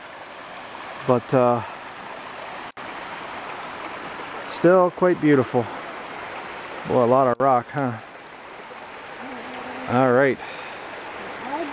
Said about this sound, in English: You hear that water running?